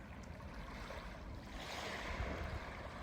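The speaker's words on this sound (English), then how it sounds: "filming the waves and enjoying the calm sound" Calm sea waves washing onto a beach at Glenarm, a soft continuous wash of surf that swells slightly toward the end, faint and distant with light wind noise and no voices.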